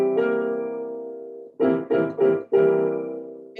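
A dominant seventh chord on piano rings out as one long sustained chord, followed by several quick repeated strikes of the chord and a final held chord, clear and close with no talking.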